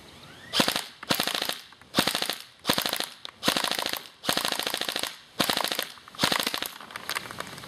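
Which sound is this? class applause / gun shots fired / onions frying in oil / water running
gun shots fired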